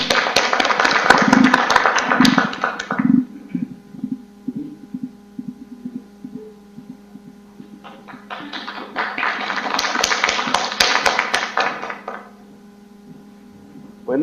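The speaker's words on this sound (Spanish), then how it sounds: "un aplauso para nuestra expositora" Audience applause for a presenter after an academic talk, bursts of hand clapping that swell, pause amid a low steady hum, then rise again before dying away.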